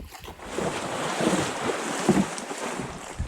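Water splashes and rushes continuously around a theme-park water ride, mixed with strong wind buffeting the microphone, loud and close with no voices.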